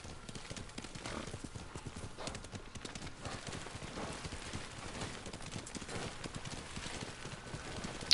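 Horse hooves clip-clopping at a steady galloping rhythm in the Ghost of Tsushima video game, close and continuous for the whole stretch, with an occasional whinny and bits of background game sound.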